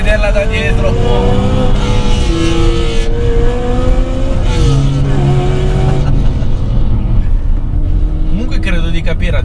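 BMW M3 engine driven hard, a loud, continuous roar with the pitch climbing through gears and dropping at each shift, up close from inside or just behind the car, with someone talking over it.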